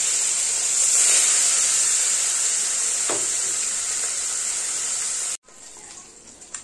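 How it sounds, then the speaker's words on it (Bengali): Parshe fish fry in hot oil with a loud, continuous bright hiss and sizzle that holds for about five seconds, then cuts off sharply, leaving a quieter sizzle. "পার্শে মাছগুলো হালকা একটু ভেজে নেব।"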